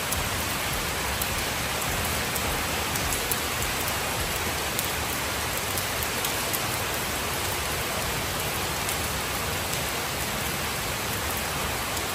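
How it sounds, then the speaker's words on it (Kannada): Steady rain falls outdoors, a continuous dense hiss of drops on surfaces with no pauses, even and fairly loud throughout, no voices. "ಹೊರಗಡೆ ಮಳೆ ಬರ್ತಾಯಿದ್ದು, ಸ್ವಲ್ಪ ಹೊತ್ತು ಹೋಗಿ ಹೊರಗಡೆ ನಿಂತ್ಕೊಂಡು ಮಳೆ ನೋಡ್ತಾ ಇದ್ದೆ"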